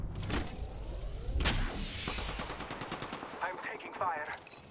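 Gunfire rattles through a match of the video game Apex Legends: rapid bursts and shots mixed with game effects, with game voices speaking over the action throughout.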